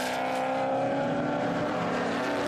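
A Holden Monaro V8 improved production race car roars past at a circuit, a loud, steady engine note with a slight pitch shift as it goes by, and no talk.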